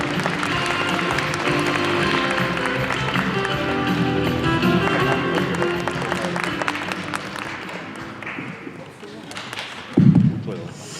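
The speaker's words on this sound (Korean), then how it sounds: "우리 큰 박수로 환영을 해주시면 고맙겠습니다" Applause from guests at a book launch event welcoming a speaker, a dense steady clapping throughout that thins toward the end, with a loud thump near the close and talk mixed in.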